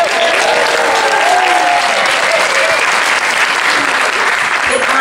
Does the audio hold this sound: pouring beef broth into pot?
no